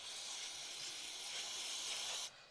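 Chain cleaner spray hisses out of a can in one steady, close burst onto an old toothbrush, lasting about two seconds before cutting off sharply.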